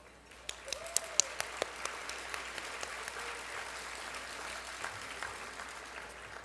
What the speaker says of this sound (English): Let's just take a moment and applaud all of them.